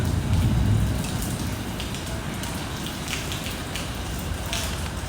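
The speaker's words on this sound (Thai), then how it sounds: "ฝนตกปล่อยๆด้วย" Steady rain patters on a surface outdoors at a house, a dense continuous hiss that stays even throughout, with a heavier low rumble in the first second and no voices.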